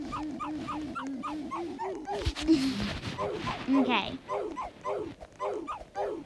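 Cartoonish dog sounds from the Piggy video game, with a steady run of rhythmic yipping barks and whimpers throughout, close and fairly loud, under and between speech.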